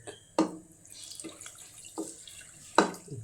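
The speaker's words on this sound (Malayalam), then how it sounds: "ഇനി കുറച്ച് വെള്ളം ഒഴിച്ചു കൊടുക്കാനകത്തേക്ക്," Boiling water is poured into a pressure cooker in short bursts, producing four distinct splashing gushes, the first and last loudest, separated by quiet gaps.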